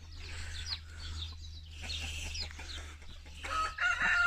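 Hens in a poultry crate cluck and squawk repeatedly at close range, with a rooster-like call rising near the end over a low steady hum.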